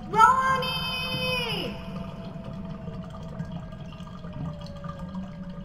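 A toilet flushes in a bathroom horror video game, a steady rush of water beginning with a loud surge, while a falling electronic tone glides down and fades early on.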